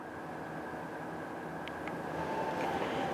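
Crowded departure hall at Pasar Senen train station in Jakarta before Eid, a dense steady murmur of travellers and hall ambience, with faint distant chimes or announcements and a rumble building toward the end.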